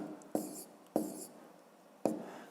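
Pen scratching an answer on paper during a fifth-grade maths exercise, three short close strokes at uneven intervals over quiet room tone, no talking.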